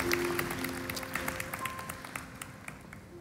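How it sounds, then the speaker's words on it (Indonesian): A church congregation claps at a service, the applause coming as faint, distant scattered patters that slowly fade over a few seconds, with no voices over it. "Kasih tepuk tangan buat Tuhan Yesus."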